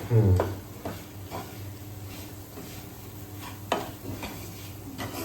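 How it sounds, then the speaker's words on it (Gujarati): Moong dal roasts in ghee in a pan for halwa, a soft steady sizzle under repeated scraping stirs of a spoon against the pan, fairly quiet and close, with no talking. "હવે આપણે આને આ રીતે હલાવતા રહેવાનું છે અને શેકતા રહેવાનું છે."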